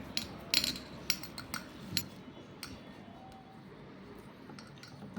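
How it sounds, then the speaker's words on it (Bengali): Drained chhena being mixed with a couple of spoonfuls of flour in a bowl: a cluster of sharp spoon clinks and soft squishes in the first two seconds, then quieter scraping against a low background, with no talk. "ছানাটাকে বাইন্ডিং করার জন্যে দু চামচ ময়দা এর সাথে মিশিয়ে দিচ্ছি এটাকে ভালো করে এবার মিলিয়ে নেবো"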